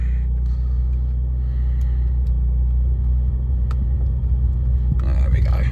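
A keyless-start BMW M3 Competition idles on a warm day in Bedford with a steady, deep, close engine rumble that holds even throughout and swells slightly near the end.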